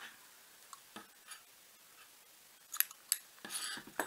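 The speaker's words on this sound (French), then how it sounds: "je vais couper la laine" Scissors snip through wool yarn during crochet work on a cabled sweater, a few quiet, crisp cuts close by after a soft lull, with no voices.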